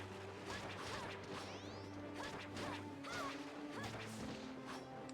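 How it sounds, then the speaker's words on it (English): Glass smashing and shattering in a video game, a few sharp crashes with bright tinkling debris over a steady low game hum, fairly faint. "I never noticed the glass sound effects."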